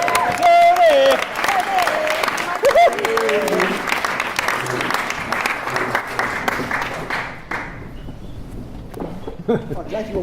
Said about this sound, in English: I'm glad you all clapped before the speech.